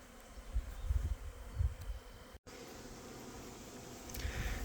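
Honeybees buzz around open hives during a mite-testing inspection, a steady low drone close to the listener with a brief dropout partway through.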